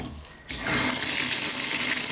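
After a brief quieter moment, a shower faucet bursts on, and cold water rushes out in a loud, steady, close-up spray that continues to the end.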